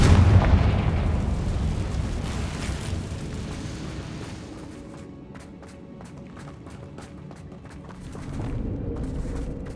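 A fiery Confringo blast spell in Hogwarts Legacy erupts with a heavy booming roar that rolls and fades, followed by a scatter of sharp crackling pops and a second swell of rumble.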